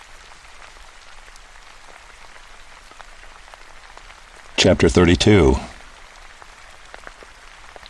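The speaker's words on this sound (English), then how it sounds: "Rain" Steady rain falls throughout against a dark, quiet setting, an even hiss of drops that continues under a brief burst of a man's speech near the middle.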